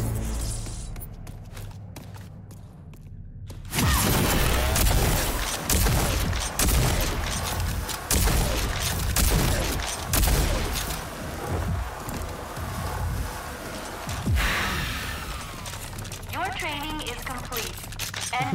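Heavy gunfire and booming blasts from the shooter game RAGE 2 break out after a quiet opening, with dense rapid bursts running under continuous excited talk.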